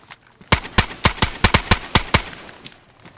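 Rapid bursts of gunfire from a video game shooter, fired through a wall, about nine loud sharp shots in an uneven quick rhythm, then tapering into quieter echoing tail.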